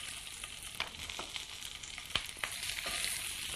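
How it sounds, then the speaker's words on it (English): Onions sizzle and crackle steadily in a hot frying pan as they brown, with occasional sharp pops and scraping stir sounds, close and moderately loud. "Now they're going to go into the frying pan and be browned and toasted a little bit."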